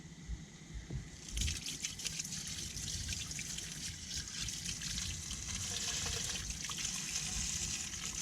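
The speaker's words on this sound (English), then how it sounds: "the water still runs off just fine" Steady trickling and dribbling of water running off a car wheel coated with SONAX Spray & Seal, soft and continuous, with light splashy detail throughout.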